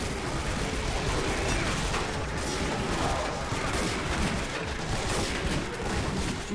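Gunfire aimed at poison zombies in a zombie-survival video game set in a mall rattles in a steady, dense stream of rapid shots, loud and continuous, with no clear talking.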